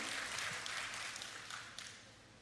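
A congregation in church applauds the pastor's wife, with faint, steady clapping that fades slightly toward the end.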